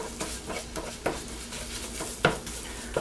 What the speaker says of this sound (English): My last step now is to cook up half of that sausage meat